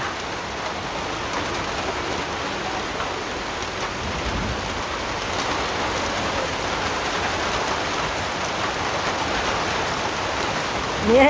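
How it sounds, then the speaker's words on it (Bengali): Rain sets in and falls steadily, a dense, even hiss of drops on surfaces that swells slightly over time, with no clear voices. "এই যে বৃষ্টি নেমে গেছে"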